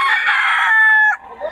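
A gamefowl bull stag crows once at an open-air market, a loud, close, sustained cock-a-doodle-doo that cuts off sharply near the end, followed by faint background market noise.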